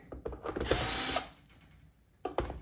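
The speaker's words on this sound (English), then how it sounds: "To get this apart, you just need to unscrew the perimeter here." Power driver unscrewing screws from the plastic casing of a broken power tool: a short loud whirring burst with clicks, then a quieter pause and a second brief burst starting, close up with no talk.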